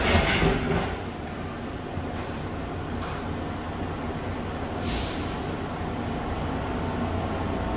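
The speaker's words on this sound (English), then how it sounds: "This tram is going to the sea gates." Airport tram train heading to the C gates at Las Vegas airport, running with a steady rumbling rail drone and faint clicks, fairly close and continuous, with no talking.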